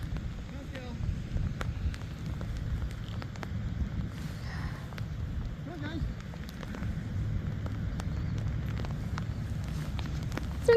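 Rain falls steadily at a dog park during a thunderstorm, with wind buffeting the microphone and a few footsteps, and voices speak now and then over the wash of noise.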